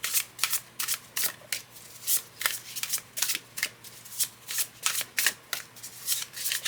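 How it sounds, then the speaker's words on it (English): Medium weight I Ching divination cards are riffle shuffled over and over, a steady run of quick, crisp fluttering bursts, close and clear with no talk. "medium weight cards to me shuffle easier, riffle shuffle anyway"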